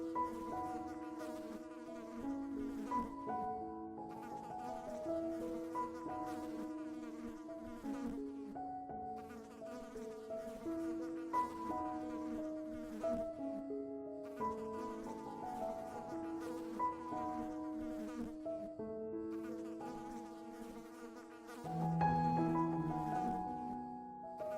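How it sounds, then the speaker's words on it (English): Mosquitoes swirl and buzz around in Denali National Park, a thin whining drone that rises and falls in pitch as the insects circle close to the listener, continuous throughout. "you can hear them swirling and buzzing"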